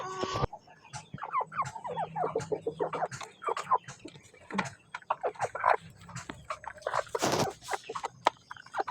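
Chickens and ducks cluck and squawk excitedly while being fed, a dense run of close, overlapping calls with a few louder outbursts and no talking.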